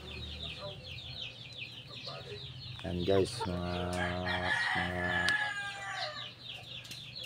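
Chickens on a small backyard poultry farm cluck and crow in a busy, close chorus, with a rooster's call rising midway while someone talks over the flock.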